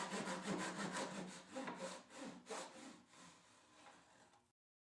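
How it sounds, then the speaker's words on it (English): A two-sided hand saw cuts a slot into a wooden lamp base ring with a steady run of close, rasping back-and-forth strokes that gradually slow and soften before stopping. "Using my two-sided hand saw, I cut opening slot in all the three wooden base rings"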